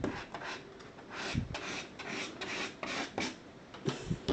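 Plastic card rubbed firmly over a vinyl sticker, a close, steady scraping and rasping made of repeated back-and-forth strokes with no talking.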